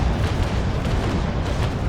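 Ship cannon fire in Naval Action, a loud, dense rumbling blast of broadside noise that sustains throughout without a break.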